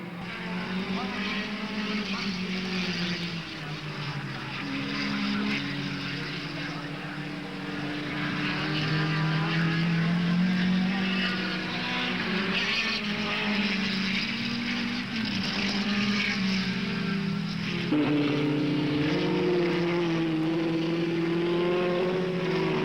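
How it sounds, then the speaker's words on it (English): 1960s open-wheel racing cars at Warwick Farm, 1965, scream past the circuit with high, whining engines rising and shifting pitch as they pass, loud and continuous throughout. "Jim Clark is now demonstrating to the crowd the mastery he commands over the racing car"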